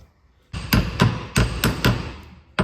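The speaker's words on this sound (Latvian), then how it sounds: "Pamēģināsim ar āmuru." A hammer taps repeatedly on the hood of a damaged Škoda car: five or six loud, sharp metallic knocks at an uneven pace, close up, with no talking.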